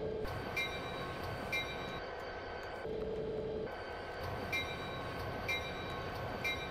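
Simulated train in Train Sim Classic on a Metra route, a steady rumbling rail drone at moderate distance with periodic faint chimes and a brief squeal as it pulls into a station.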